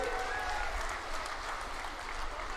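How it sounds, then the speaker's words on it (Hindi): A crowd at a political rally held for Union Home and Cooperation Minister Amit Shah claps for Baba Balaknath in steady, dense applause that fills the whole stretch. "सब ताली बजाओ बाबा के लिए"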